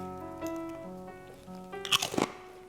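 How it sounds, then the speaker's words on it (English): Pita chips are bitten and crunched in two quick, crisp bursts near the end, over soft sustained background music. "It's a good crunch."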